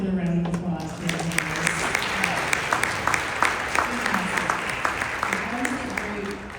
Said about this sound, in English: Let's give another round of applause for the